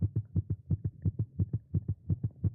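Game audio heartbeat, filtered to its low end and compressed, layered with a pulsing bass synth: steady, fast, evenly spaced deep thumps repeating throughout.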